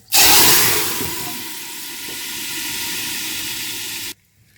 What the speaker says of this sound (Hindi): जब गरम गरम ऑयल गरम गरम कड़ी में जाता है तो ये बहुत उछलता है